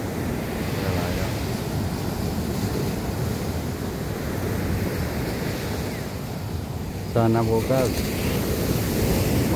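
Ocean surf washes onto the shore in Zambales in a steady, continuous roar mixed with wind buffeting the microphone, while a person speaks briefly near the end.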